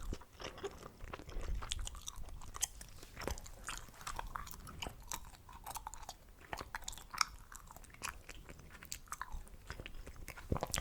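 Chewing gum is worked slowly and close up, giving soft wet smacks and clicks in an irregular rhythm, quiet and intimate with no speech.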